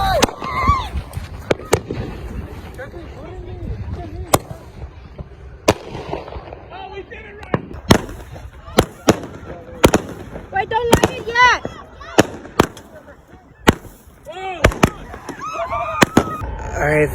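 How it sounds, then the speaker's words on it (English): Fireworks bang and crackle at an outdoor Independence Day celebration, with sharp blasts scattered irregularly from near and far throughout, over a steady background hiss. "so we're still popping fireworks"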